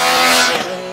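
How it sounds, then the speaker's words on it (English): Triumph Trident 660 motorcycle engine held high in the revs, a loud steady whine with a smooth pitch that eases slightly toward the end of a brief burst. "Keep the revs up and it still delivers"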